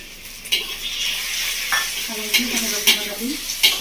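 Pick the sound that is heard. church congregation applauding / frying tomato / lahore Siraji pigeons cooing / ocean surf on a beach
frying tomato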